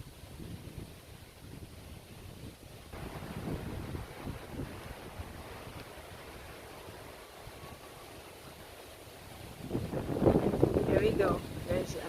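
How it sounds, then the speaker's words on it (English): Strong gusting wind in the Philippines buffets the microphone in waves, steady roaring with a louder surge near the end; faint talking can be made out beneath it. "then there's a big wind again blow to our place."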